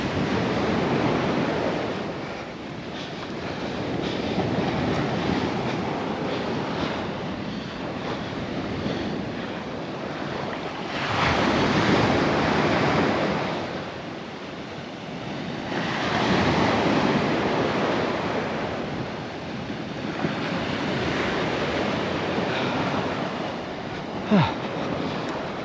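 Ocean surf on Marrowstone Island's North Beach in Puget Sound at a high king tide, a steady roar of breaking waves that swells and fades in long surges, with gusty wind buffeting the microphone.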